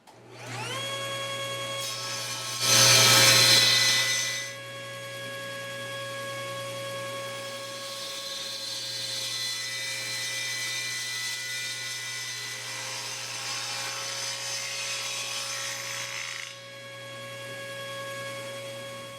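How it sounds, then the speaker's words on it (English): A bandsaw hums steadily with a low motor drone and whining harmonics, with a louder burst near the start as the blade bites into wood for a tenor guitar body, then a sustained even cut that eases off near the end. "I'll be able to finish this up on my bandsaw"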